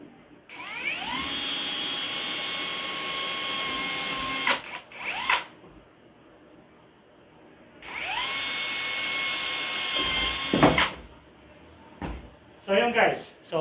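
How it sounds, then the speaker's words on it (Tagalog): A drill fitted with a Forstner bit bores holes in wood for a simple wine rack, with two long whining runs that ramp up in pitch and each stop with a clatter, and someone speaking in between. "kuha tayo ng drill bit na ganito and then tutuloy na natin butasan to"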